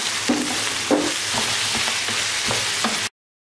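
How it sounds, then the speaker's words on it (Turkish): Tomatoes and tomato paste sauté in a hot pan with a close, constant sizzle and crackle, a few soft stirring knocks, then sudden silence at the end. "Şöyle bir 5 dakika güzelce kavurup ondan sonra baharatlarını ilave edeceğim."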